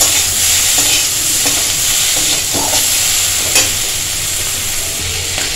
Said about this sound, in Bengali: আর জিরে দিয়ে ভালো করে মশলাটাকে ভেজে নেব।